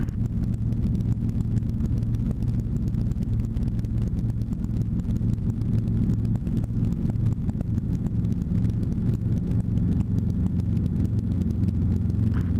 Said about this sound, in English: helicopter 519 Golf Papa is taking off 15 for a right downwind departure